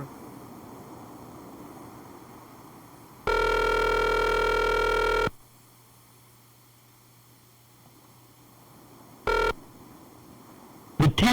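A long ringback tone on a phone call to an unavailable Text Now subscriber lasts about two seconds over line hiss. After a long quiet gap, two shorter tone bursts follow.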